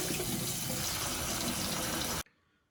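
Tap water gushing steadily into a colander of red lentils being washed, a loud continuous rush that cuts off abruptly near the end, leaving quiet.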